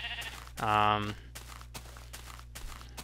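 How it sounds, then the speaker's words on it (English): A sheep in the Minecraft video game gives a single loud, harmonic bleat lasting about half a second, surrounded by soft, regular in-game footstep thuds and a low steady hum. "Don't really have a use for the sheep here, but let's go ahead and get the wool off of it."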